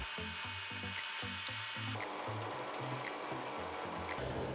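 A power drill whirs steadily while drilling keyring holes in wood, its motor pitch shifting as it bites into the material in short bursts, close and loud with no talking.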